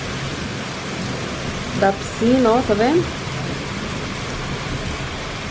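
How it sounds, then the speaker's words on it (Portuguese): Heavy rain pours steadily with gusting wind as a continuous broadband wash, while a person speaks briefly over it partway through. "Gente, olha essa chuva. Ventania."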